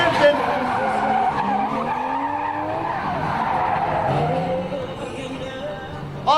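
A car drifting on a race track, tires skidding and squealing in long wavering screeches over engine noise, at moderate distance, with a voice talking over it.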